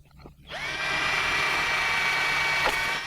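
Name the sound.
power drill drilling through large tile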